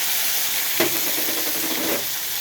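Onions and curry leaves sizzling in hot oil, a steady close hiss throughout with a brief burst of louder crackle as they hit the pan, no voices.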